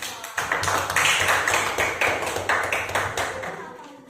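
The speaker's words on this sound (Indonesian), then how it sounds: "Tepuk tangan untuk Dava" A classroom of students claps for a classmate in quick, rhythmic bursts. The close, punchy claps repeat evenly, with a voice briefly audible alongside.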